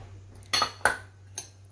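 Grated radish mixed with rice flour and tapioca flour using metal utensils, with three distinct clinks and scrapes spaced about a third of a second apart against quiet background hum.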